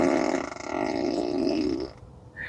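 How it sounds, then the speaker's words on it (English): A 2024 Tesla Model 3 Performance plays its novelty fart sound effect from the cabin speakers, a single loud, drawn-out flatulent rasp that fades after about two seconds with nothing else heard. "where when the person sits down, the car will make the fart sound"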